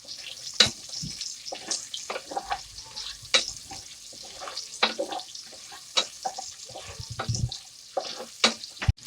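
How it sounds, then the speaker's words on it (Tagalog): Onions stirred and frying in a pan for bamboo shoot adobo Ilocano style, with steady close sizzling broken by repeated scraping and stirring clatters, no talk. "Sunod na natin yung sibuyas or onions. Yan. Haluin lang natin siya."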